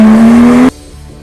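Porsche 911 GT3 RS sports car accelerating hard, a loud rising engine tone and roar close by that cuts off abruptly partway through, leaving a faint quiet tail with no talking.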